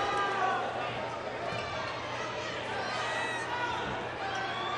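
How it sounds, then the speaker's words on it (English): A home crowd of Richmond Red Devils fans at a high school basketball game murmurs and grumbles in steady disapproval, a broad, sustained wash of many voices. "Red Devil crowd, you can hear them. They didn't agree at all."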